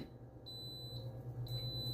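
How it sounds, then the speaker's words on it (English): Two clear high electronic beeps from a waffle maker signalling it is ready, about a second apart, over a steady low hum in the room. "once you heard that beep, that means the waffle thing is ready"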